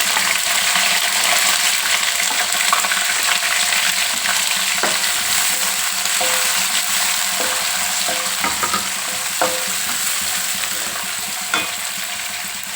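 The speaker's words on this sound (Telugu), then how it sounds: "జీలకర్ర ఆవాలు వేగినాక తుంచుకొని మూడు ఎండుమిర్చి కట్ చేసుకున్న ఉల్లిపాయ మొత్తం" Cumin, mustard seeds, dried chillies and onions frying in hot oil, a loud continuous sizzle with occasional stirring clicks and scrapes, close and without talk.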